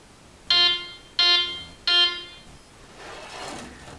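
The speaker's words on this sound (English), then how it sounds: "The screen will beep again." A John Bean Visualiner wheel alignment screen gives three loud, evenly spaced electronic beeps, each about half a second long, followed by a faint hiss.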